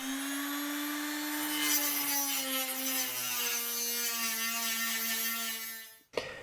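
Sheet metal being cut for the wall of a small blacksmith forge, a steady, ringing, tonal grinding drone that holds for about six seconds before stopping with a sharp clank.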